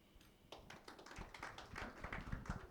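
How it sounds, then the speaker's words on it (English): Scattered clapping from an audience at an African Union protocol meeting, starting sparse and thin, then building into irregular, fairly quiet bursts of hands. "you should clap for yourselves"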